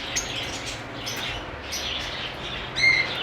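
Lovebirds kept as breeding pairs chirping in an aviary, several faint high tweets over a steady background hum, with a brief sharper call near the end.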